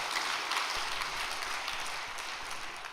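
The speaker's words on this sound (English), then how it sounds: "Why don't we give a big round of applause to all of those volunteers who are working at Ansu room." An audience gives a round of applause for volunteers, a steady wash of many hands clapping, moderately loud and sustained with no talk over it.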